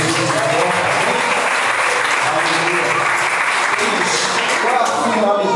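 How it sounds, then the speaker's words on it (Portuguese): A church congregation applauds steadily and loudly throughout a worship service, the dense clapping filling the whole moment with voices mixed in. "Quem pode aplaudir Jesus?"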